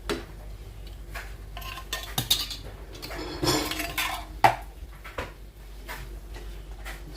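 Ackee emptied from a can into a pan on an electric cooker, heard as close metallic clinks, scrapes and knocks of utensil and cookware, irregular and fairly loud with no talk.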